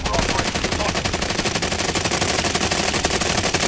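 Rapid, continuous automatic gunfire from a Call of Duty Warzone match rattles loudly and densely throughout, with shots overlapping into a sustained barrage.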